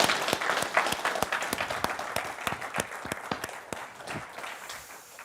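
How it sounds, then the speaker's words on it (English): Audience at a startup pitch competition final applauds after a pitch, steady dense clapping with sharp individual claps standing out, fairly close and sustained, no talking over it. "One more applause."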